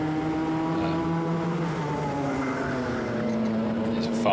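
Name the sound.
Club100 racing kart engines during a sprint race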